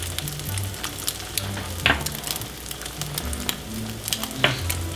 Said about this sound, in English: That's why I like the spatula, because I can keep getting the butter on the eggs.